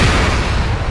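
Gunfire in the military shooter game Arma 3, during a Wasteland-mode firefight: a dense, loud burst of broadband noise that fills the whole short moment with no clear gap or separate shot.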